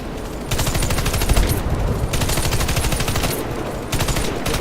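Rapid automatic gunfire from a water pistol in a video game, a dense continuous rattle of shots that runs almost without pause, loud and close, with no talk over it.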